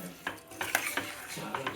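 Ingredients being stirred and fried in a pan, with a soft background sizzle broken by several light scrapes and clinks of a spoon against the pan, fairly quiet and close.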